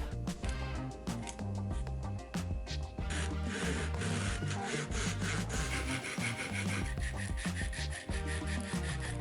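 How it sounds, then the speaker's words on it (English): Wooden bulkheads for a model sailboat being cut while clamped in a vise: a continuous rhythmic scraping of sawing through wood, close and loud, running for the whole stretch without speech. "I'll cut these in my vise to make sure they all line up."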